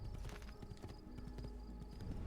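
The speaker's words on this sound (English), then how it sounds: "And a whole bunch of horses." Horses trotting in the video game Assassin's Creed 2, rhythmic hoof clip-clops sounding fairly close and quiet, with a faint whinny-like tone in the background.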